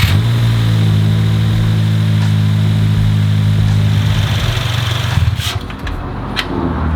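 A 2023 Subaru WRX engine idling after an oil change, a steady low rumble with constant harmonic drone, close and loud throughout, with a couple of faint clicks near the end.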